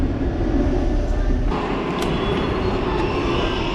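A train at Chatswood station in Sydney makes a loud, continuous rumble of wheels and rail noise, with brief higher squeals and clatter partway through.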